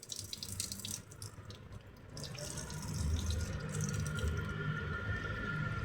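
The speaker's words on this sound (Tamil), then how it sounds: "அது பின்னால் கால் எப்படி விரல்களை குடஞ்சி கழுவுறன்னு பாருங்கள்." Water runs steadily from a tap while feet are washed during wudu, a continuous splashing hiss that grows slightly fuller and louder after the first couple of seconds, with small drips and no talk.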